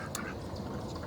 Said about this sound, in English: we got another batch of ducks